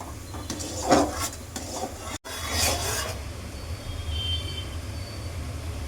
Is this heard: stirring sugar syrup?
yes